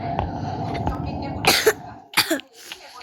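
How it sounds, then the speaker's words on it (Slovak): Someone with a slight infection coughs twice, loud and close, a single harsh burst followed by a quick double cough over a faint background murmur. "Som trochu nakazený, tak preto kašlem"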